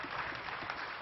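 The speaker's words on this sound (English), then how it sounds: "scientists and space enthusiasts gathered to witness history and broke into applause" Brief, faint applause from a crowd of scientists and space enthusiasts at the Chandrayaan-3 launch, a dense steady patter of many hands clapping at a distance.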